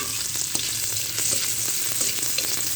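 Fish curry base sizzles and crackles in a little oil in a pan, a continuous close frying hiss with scattered sharp pops and spatters, and no speech.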